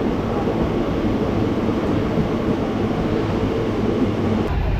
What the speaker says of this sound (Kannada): Now this is the Tambaram Mangalore Central Express